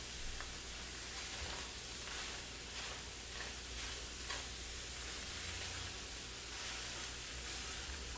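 Vegetables sautéing in olive oil for homemade chili give off a steady, crackling sizzle, even and close throughout, with faint stirring scrapes and no voices.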